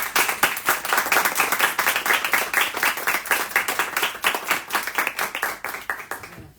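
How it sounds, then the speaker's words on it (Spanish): An audience at a reading applauds with brisk, rhythmic clapping, loud and close, keeping a fast steady patter before it tapers off at the very end. "un aplauso"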